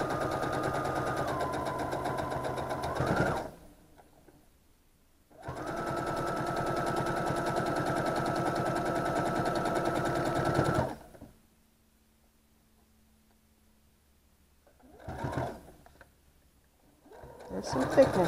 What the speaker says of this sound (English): I'm going to take it to the sewing machine. I'm going to sew these together the same way we did the top two rows.